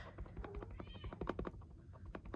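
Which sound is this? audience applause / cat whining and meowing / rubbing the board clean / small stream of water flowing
cat whining and meowing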